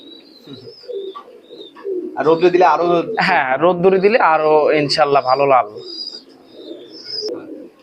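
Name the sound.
imported bloodline high-flying pigeons cooing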